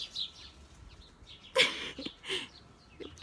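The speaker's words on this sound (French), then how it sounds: "Il y a des oiseaux partout." Small birds chirp around an outdoor skatepark: faint, scattered high chirps over light background noise, with one louder burst near the middle and a few short calls after it.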